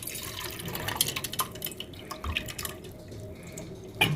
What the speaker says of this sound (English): Rinse well a couple of times till water runs clear.